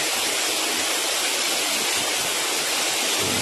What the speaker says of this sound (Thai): น้ำตกแม่ปาน